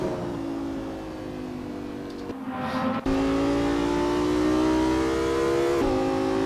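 A Nissan S15 race car drifting around Laguna Seca in Assetto Corsa, its engine droning loud and steady with rising and falling pitch. A brief drop off the throttle comes midway before the revs climb again, with no talking.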